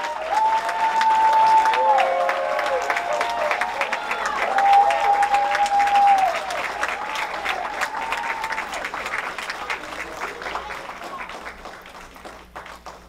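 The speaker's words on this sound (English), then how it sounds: "And let's give them a round of applause." An audience at a tech school gala applauds standing graduates with full, continuous clapping and some cheering, with occasional whistles, fading gradually over about thirteen seconds.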